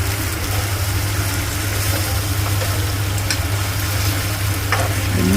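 Chilli paneer in a pan with soy sauce and tomato sauce being stirred, a loud steady sizzle over a low constant hum, with occasional scraping clicks and no talking.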